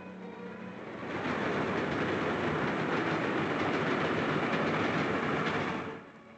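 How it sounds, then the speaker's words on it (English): A train passes close by with a steady, loud rumble and rhythmic clatter of wheels on rails, swelling in and then fading out over several seconds, with no speech. "Look at that train."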